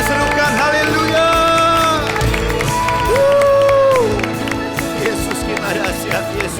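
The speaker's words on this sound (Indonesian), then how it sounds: "Tepuk tangan, serukan haleluya" A church congregation at a Sunday worship service claps and cheers hallelujah, a lively crowd roar with scattered clapping running beneath sustained instrumental music and tones throughout.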